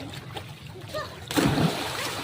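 Water splashing and sloshing as kids swim and dive in the sea off Zumaraga Island, a burst of splashes arriving partway through over steady surf wash, with voices faintly in the background.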